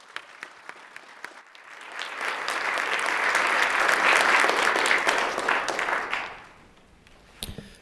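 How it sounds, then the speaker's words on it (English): Applause fills a Nevada Assembly floor session: a few scattered claps swell into full, sustained clapping from the chamber, then die away, with a final sharp clack at the end. "If we could give her a round of applause."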